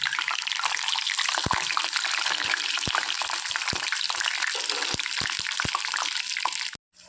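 Onion bajji deep-fry in hot oil with a dense, continuous bubbling sizzle broken by sharp crackles and pops, heard up close before cutting off abruptly near the end.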